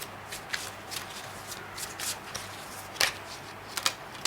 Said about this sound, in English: I want to pull one last card as your guidance